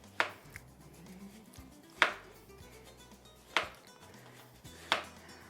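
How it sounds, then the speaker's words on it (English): A knife slices through a juicy watermelon on a cutting board, landing four crisp, evenly spaced cuts roughly every one and a half seconds against a quiet kitchen background. "What you want to do here is just go ahead and just slice it up."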